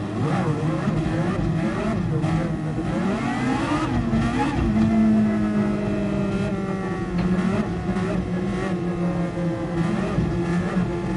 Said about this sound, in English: So the blokes revving, hopefully they're using all their fuel.